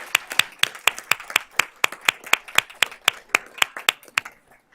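Hands clap in a steady, evenly spaced rhythm during a round of applause for honored students at a school board meeting, each clap sharp and close, with only a few people joining before it stops.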